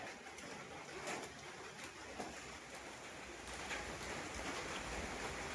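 Steady rain patters on surfaces nearby, a soft continuous hiss with occasional louder drops, and a bird cooing faintly in the background.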